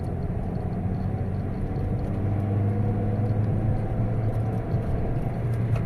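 A petrol Toyota Corolla fitted with a smart clutch system drives along with a low, steady engine and road rumble from inside the cabin, the tone shifting slightly as gears change.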